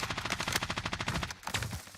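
Rapid automatic gunfire from the Call of Duty Warzone video game crackles in a fast, even burst lasting over a second before trailing off, loud and continuous.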